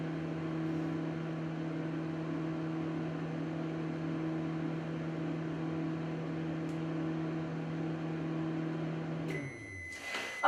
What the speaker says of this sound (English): I'm going to open the microwave and I'm going to lift the lid.